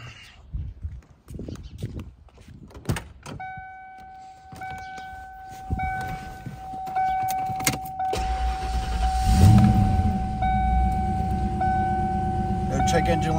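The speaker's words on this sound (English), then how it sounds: "We're going to do a cold start on the 93 Cobra here for you." A 1993 Mustang Cobra V8 cranks and fires up from a cold start at about eight seconds, settling into a loud, rumbling idle after some quieter handling noises and a steady chime.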